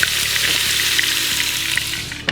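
Wild hog pork browns in a hot pan, giving a loud, close, continuous sizzle and crackle with a few light scrapes and a clink near the end, with no talk.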